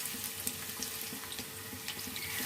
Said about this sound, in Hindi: प्याज ऐड कर देते हैं गरम ऑयल में